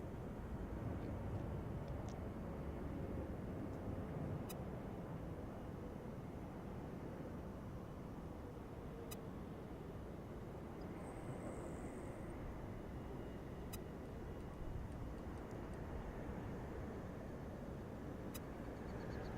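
A DHL cargo aircraft at Cincinnati airport gives a steady, broadband engine roar that holds at an even level throughout, with faint intermittent ticks above it and no talk.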